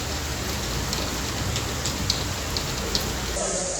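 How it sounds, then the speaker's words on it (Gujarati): Steady rain falls during a monsoon shower in Gujarat, a dense, even hiss of drops with a few sharper splashes, continuous and fairly close, with no voices. "વરસાદી ઝાપટા પડ્યા"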